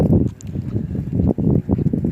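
Outdoor wind buffets the microphone in uneven low rumbling gusts, loud and close, with no voices over it.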